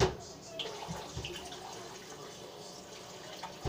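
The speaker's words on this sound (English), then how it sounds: "Then you add some hot water to it." Hot water is poured into a bowl of slime mixture, producing a faint splashing trickle with light drips, quiet and close, amid soft room noise.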